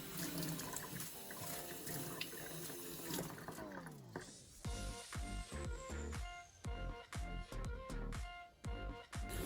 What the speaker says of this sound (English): rinse the sink and faucet thoroughly again